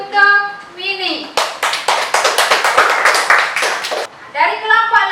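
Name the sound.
applause for a student presenter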